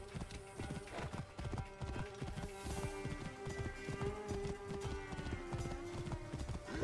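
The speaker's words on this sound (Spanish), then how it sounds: "Me he llevado Spirit, el caballo indomable." A horse gallops in Assassin's Creed Origins, its hooves pounding in a fast, steady clip-clop rhythm that runs unbroken over game ambience and music.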